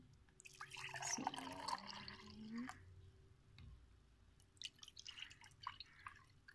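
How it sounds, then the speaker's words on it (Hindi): A strained homemade drink poured from a vessel into glasses, with soft dripping and liquid trickling sounds up close, quiet overall and fading toward scattered small splashes. "अब हम इसे गिलासों में डाल देंगे।"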